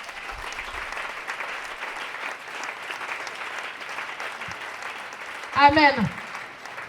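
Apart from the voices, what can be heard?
congregation applauding in church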